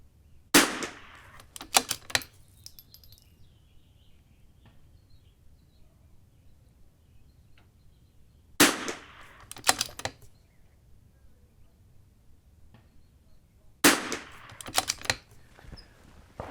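Rifle shots at an outdoor shooting range ring out in three separate clusters, each a sharp loud crack followed by quick echoing reports, with long quiet stretches of faint ambient noise between them.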